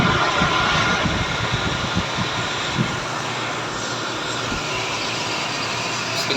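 A water station filter machine runs with a loud, steady mechanical roar and hum, continuous throughout with small irregular knocks underneath.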